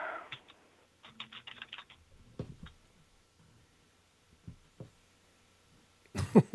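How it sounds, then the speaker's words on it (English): Rapid clusters of keystrokes on a computer keyboard, close and clear in short bursts separated by pauses, with a louder clatter at the end. "you're typing and getting a reading"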